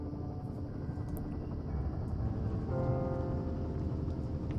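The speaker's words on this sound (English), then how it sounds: "There's the helicopter." A helicopter in the video game Firewatch gives a steady, moderately loud rotor and engine drone that swells slightly partway through, heard alone without speech.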